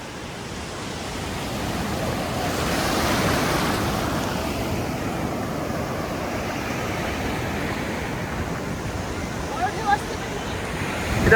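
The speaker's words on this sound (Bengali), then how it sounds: "মা বলছে এটা খুব বড় ঢেউ।" Sea waves at Puri Beach rush and break in a broad, swelling roar that builds and holds steady, with wind noise and people talking over the surf.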